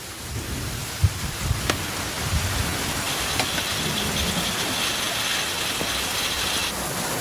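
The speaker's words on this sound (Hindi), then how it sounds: "यहाँ पर बारिश हो रही है" Steady rain pours down outdoors with a broad continuous hiss, joined by a few scattered sharp knocks and a low rumble, no voices present.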